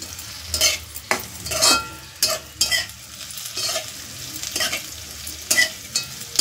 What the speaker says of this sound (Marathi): आणि हे परत परतून घ्यायचं.